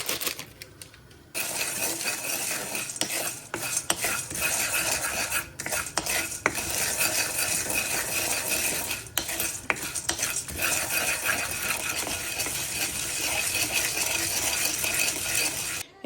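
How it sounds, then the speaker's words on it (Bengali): Pumpkin seeds sizzle and rattle in oil in a pan while a utensil repeatedly stirs and scrapes against the metal, close up, with no talking. "এই পাম্পকিন সিটটা সবটুকুই ঢেলে দিই আর একটু করে লবণ অ্যাড করে নিয়ে জাস্ট তেলে নিই"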